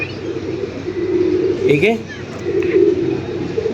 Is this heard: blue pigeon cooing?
yes